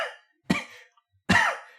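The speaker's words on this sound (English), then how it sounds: "6-hour coughing fit" A person coughs in a fit, with three harsh, separate coughs spaced out by short silences, the last one longer and rougher.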